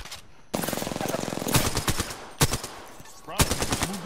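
Automatic weapon fire in the Apex Legends shooter game: a rapid burst of shots followed by several sharp single cracks and short bursts, loud and close with brief gaps between.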